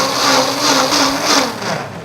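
Waring blender running at high speed, puréeing celery root with butter and cream, a loud close motor whir with a pulsing, churning surge as the thick mixture circulates.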